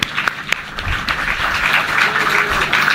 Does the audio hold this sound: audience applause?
yes